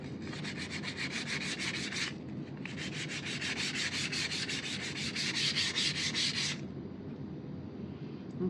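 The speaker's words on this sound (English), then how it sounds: "Okay, let's sand this. We're just taking a little bit off." Sanding a surface by hand to take off a thin top layer: brisk, rhythmic back-and-forth rasping strokes, close and fairly loud, in two bursts with a short pause between.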